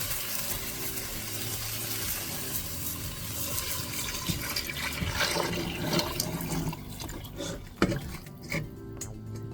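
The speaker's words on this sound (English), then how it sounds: "Now we're going to add the broth back in." Broth poured into a soup pot with coconut cream, a steady liquid splashing and running stream that fades toward the end, followed by a sharp clink near the pot.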